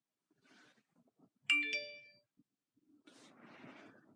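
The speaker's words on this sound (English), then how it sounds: "The notifications are already rolling in." An iPhone SE 2020 gives out phone notification chimes, a pair of bright bell-like dings in quick succession, clear and close, after quiet rustling, with a little handling noise following.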